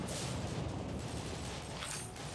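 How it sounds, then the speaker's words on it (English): Explosive bullets fire and detonate in the shooter game Bulletstorm, a dense burst of loud blasts and crackling booms rolling together, then thinning toward the end. "Explosive bullet."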